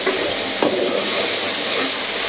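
Spice paste frying in oil in a pan, a steady bright sizzle with scraping stirs and a light clink of the utensil against the pan, with no talk.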